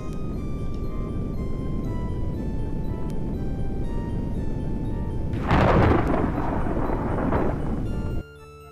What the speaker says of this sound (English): Your ship arrives in the midst of a terrible storm.